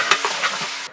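Chopped onions with salt being stirred and sautéing in a pan for mutton biryani: close scraping stir strokes over a continuous sizzle, brief and loud, with no talk.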